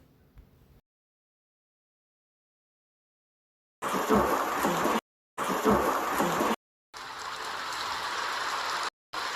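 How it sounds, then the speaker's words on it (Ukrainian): Steady hissing rain or rushing water in several bursts separated by short silences, fairly loud and continuous within each stretch. "Або дощ."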